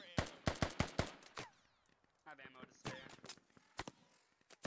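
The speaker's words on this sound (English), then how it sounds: "A lot of Russian fire going on towards the militia, though." Scattered gunfire in a Squad military game battle between Russian forces and militia, a rapid cluster of sharp shots followed by sparser single reports at varying distances, with brief game voice chatter in between.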